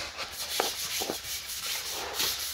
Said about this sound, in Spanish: traemos lija de 150 grit. Y ya le damos una lijadita así bien parejito